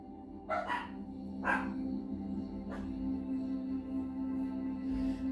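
Riled-up dogs bark in several short bursts at a moderate distance, separated by pauses, over a steady indoor hum.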